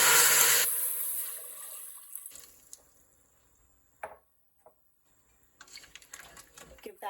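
Water pours into a soup pot of potatoes for Zuppa Toscana, a loud rushing stream for under a second, then quiet with a few scattered knocks and splashes.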